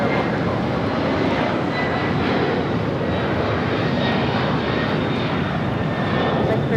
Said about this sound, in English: 1379 taking off to Memphis on a 767 named Benjamin